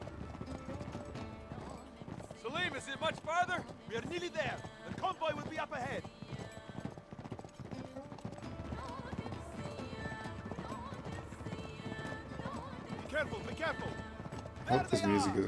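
Horses gallop in the Uncharted: Drake's Deception desert level, hooves clip-clopping steadily throughout with occasional whinnies, under game music and intermittent voices talking.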